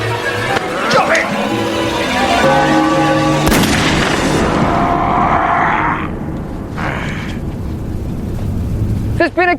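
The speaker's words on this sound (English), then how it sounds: "There's been a gunshot. Repeat, a single gunshot." One sharp, loud bang bursts out partway through over tense background sound and rumbling, followed by a fading ring and quieter noise.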